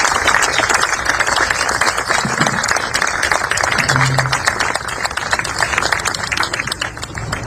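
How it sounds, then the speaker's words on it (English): Steady applause from a gathered crowd honoring Charlie Vavruska at an outdoor street naming ceremony, continuous clapping held at a constant level throughout. "let's give a big round of applause to Mary's son, Charlie Vavruska"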